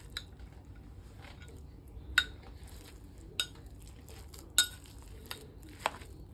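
A utensil mixes three fish cake ingredients together in a bowl, giving sparse, quiet clinks and scrapes at irregular intervals over a soft background.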